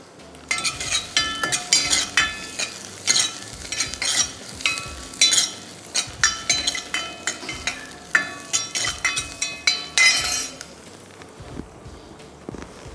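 Scallions, ginger, garlic and chili sweat in a pan with very little fat, giving a steady close sizzle broken by repeated stirring scrapes and light clinks of a utensil, then easing off toward the end.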